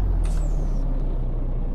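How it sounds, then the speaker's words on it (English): A Peterbilt 389 truck in Euro Truck Simulator 2 engages its Jake engine brake while slowing to a stop, giving a loud, steady low diesel rumble with a brief high hiss and whine at the start. "a bit of the Jake brake as we come to a bit of a grinding halt"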